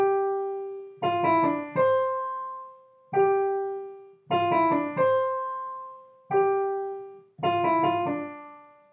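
A theme played on keys, a slow, sparse melody of quick pickup notes and longer held tones repeated in phrases, clear and close with no talk.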